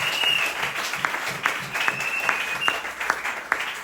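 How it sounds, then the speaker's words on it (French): A church congregation at a Sunday service applauds loudly and continuously, with many sharp overlapping claps filling the room from start to finish. "Si vous croyez cela, applaudissez très fort pour la gloire de Dieu."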